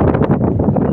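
Strong wind buffeting a microphone outdoors, a loud continuous rumbling roar with gusty fluttering, no voices.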